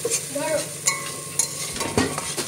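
Momo stuffing frying in a pan, a soft steady sizzle broken by a few sharp clinks and scrapes of a utensil stirring against the metal, heard close and without talk.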